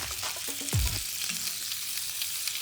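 Juniper berries crackle in hot butter in a pan, a constant close sizzle broken once by a dull knock of cookware early on.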